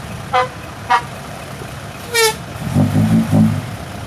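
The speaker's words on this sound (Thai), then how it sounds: "เดี๋ยวต่อไปเป็นคิวของหกล้อครับ" Around a six-wheel dump truck working on a muddy fill site, two short horn toots sound, then a longer honk, followed by a low rumble of heavy engines pulsing nearby.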